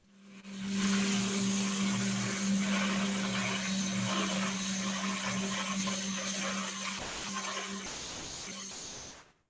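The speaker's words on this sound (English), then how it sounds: "Just put it in a food processor." A food processor grinds oats into oat flour, a loud, steady whirring roar up close that runs for several seconds before cutting out with a few short pulses.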